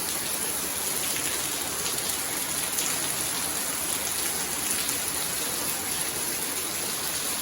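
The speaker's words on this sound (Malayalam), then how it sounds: "മഴ തുടങ്ങിയപ്പോൾ മാഷാള്ള നല്ല അടിപൊളി മഴ" Steady, heavy rain pours down without a break, a dense hiss of drops close by with no voices.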